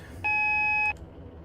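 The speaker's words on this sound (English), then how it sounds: "that's a loud AWS alarm" A loud steady electronic alarm tone from the AWS warning system in a Roblox British railway train game, sounding once for about two-thirds of a second over quiet background.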